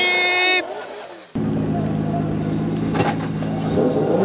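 Toyota GR Supra drift cars battling at a D1GP round at Okuibuki, engines roaring loud and sustained after a brief lull, with commentary and crowd noise running underneath.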